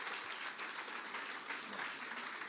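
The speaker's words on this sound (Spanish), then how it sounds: "Vamos a darle un fuerte aplauso. Un aplauso muy fuerte." A church congregation applauds a first-time visitor, a steady wash of many hands clapping at moderate distance with no pauses, heard on its own.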